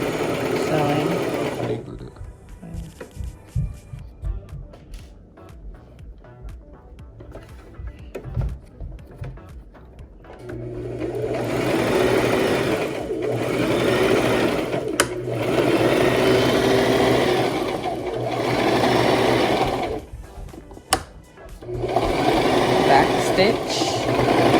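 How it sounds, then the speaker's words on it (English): A sewing machine stitches a faux fur cushion cover in steady bursts, loud and close, with pauses between runs of stitching and a voice talking over the quieter stretches. "Put the presser foot down, drop the needle and begin continue sewing."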